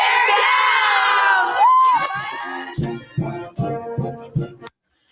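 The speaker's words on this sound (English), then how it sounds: "Should we do one more cheer before I go?" A crowd gives a loud sustained shout of "Bear down!", then breaks into several bursts of cheering and whooping that stop abruptly.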